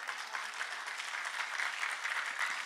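A church congregation applauds at a Sunday service, a dense, even wash of many hands clapping continuously with no break.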